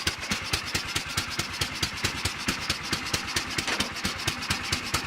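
A 1989 Sears tractor engine idles in gear with a steady, rapid, even chug and a mechanical clatter, moderately loud and close, with no voices.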